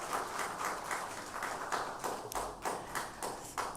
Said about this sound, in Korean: 은혜로운 찬양해 주신 성가대원들에게 다시 한번 감사의 박수하겠습니다.